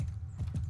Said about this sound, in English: Ah, look at the Shire horse.